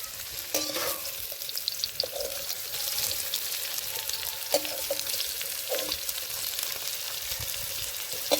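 Raw jackfruit pieces fry in a pan with a steady sizzle, broken by clinks and scraping stirs at irregular moments, close and moderately quiet, and no one speaks.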